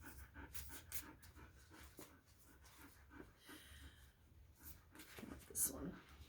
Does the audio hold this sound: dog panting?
yes